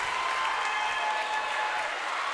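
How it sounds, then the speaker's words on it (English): Fans applaud and cheer steadily in a gym during a girls high school substate basketball game, a dense, even wash of clapping that holds at a constant level throughout. "Big shot from Ainsley Burleson, and the crowd is back in it here at Summertown"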